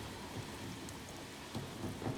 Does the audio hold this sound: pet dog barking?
no